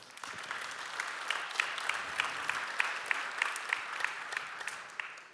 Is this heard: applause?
yes